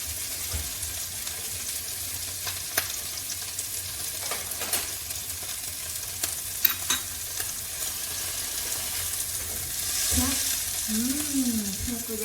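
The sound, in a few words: butter and steak frying in pan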